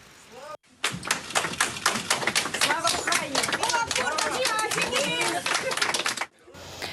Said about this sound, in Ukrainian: До зали вони зайшли під оплески рідних і вигуки Слава Україні